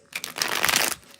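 Tarot cards being shuffled in a quick riffling burst of papery flutter and crinkle lasting about a second, close and fairly loud, with no one speaking.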